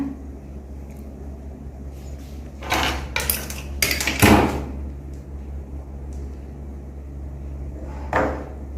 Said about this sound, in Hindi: मम्मा उधर बर्तन धुल रही हैं